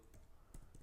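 A brief burst of a few soft computer keyboard keystrokes as a command is typed, quiet and close with a low background hum.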